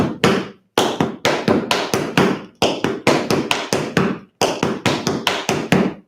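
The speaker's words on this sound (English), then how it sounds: "scuff, heel, step, heel. Step back, press back." Tap dance steps in a scuff, heel, step, heel pattern, ringing out as sharp, crisp taps on a hard floor, played in quick rhythmic bursts across several repeated phrases with brief pauses between them.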